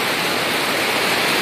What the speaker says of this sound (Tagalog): Nag-ulan, guys.